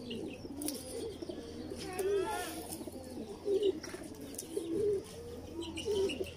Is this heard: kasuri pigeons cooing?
yes